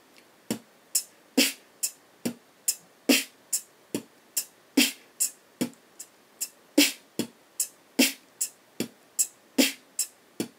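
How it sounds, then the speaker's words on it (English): A close, dry drum-kit beat plays alone. A quieter extra hi-hat tap leads into an unexpected, louder snare hit, repeating in a syncopated pattern over about ten seconds. "when you get to that extra hi-hat sound, you can make it a little bit softer as you proceed into that unexpected snare drum"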